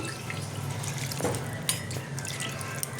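Water runs and splashes while a yogurt bowl is rinsed in a home kitchen, a faint trickle with a few small drips and clinks over a low background hum.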